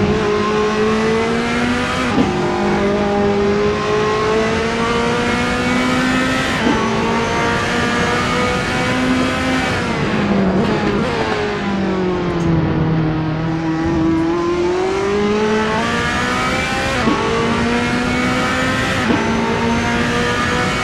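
Ferrari 458 race car engine howling through qualifying laps at Imola in a racing game, heard from the roll cage view: loud and continuous, climbing in pitch through each gear and dropping sharply at every shift, repeating across the run.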